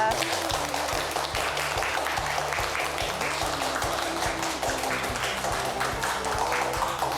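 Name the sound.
audience applause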